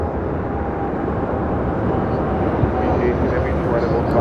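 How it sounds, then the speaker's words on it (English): United Boeing Dreamliner jet rolling down runway 25 right at LAX, a broad steady engine roar heard from a distance, with a voice talking over it. "we have a United Dreamliner now rolling down 25 right"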